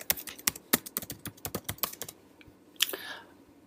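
Typing on a computer keyboard, entering a name for an online community: a quick run of close, crisp key clicks, then a pause and a couple of final taps, with no voices.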